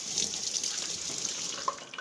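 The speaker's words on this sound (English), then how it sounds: "Wash my hands." Water runs steadily from a kitchen tap while hands are washed beneath it, a continuous close hiss with a small splash near the end.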